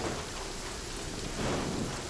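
Steady rain hisses over a low thunder rumble in Genshin Impact, forming a continuous storm wash with a brief swell near the end and no talk.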